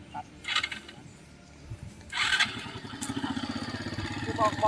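A seven-year-old child rides an ATV around a practice track in Chiang Mai, its small engine droning and revving steadily, rising louder toward the end, with bursts of other noise and voices in the background.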